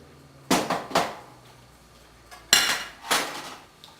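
A saucepan and kitchen utensils are handled while preparing a blueberry syrup: sharp metallic clanks and clatters come in two close pairs, loud and near, with quiet pauses between.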